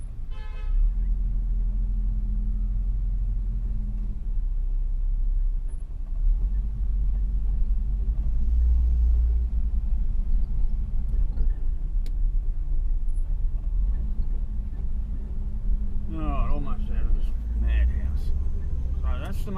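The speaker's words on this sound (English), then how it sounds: "Well, I'm glad my car doesn't overheat at idle." A car engine idles with a steady low rumble through the whole stretch, with people talking over it and a brief horn-like toot near the end.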